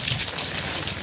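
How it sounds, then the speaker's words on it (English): Heavy rain pours down steadily, a dense, even hiss of drops hitting surfaces with no pauses, close and loud, with no voices or other sounds over it. "rain was now coming and my plan was now cancelled"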